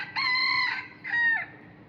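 Roosters kept for cockfighting crow and cluck close by: a long, loud harmonic crow followed after a short pause by a second, shorter call, with no talk.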